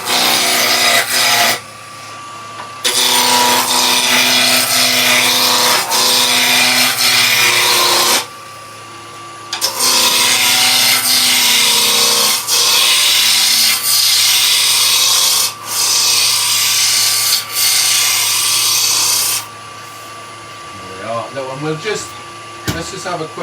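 A wood lathe spinning a workpiece at about 1800 rpm while a roughing gouge cuts it toward a cylinder, giving loud, harsh, continuous scraping bursts that stop and restart in long stretches, with a voice talking near the end.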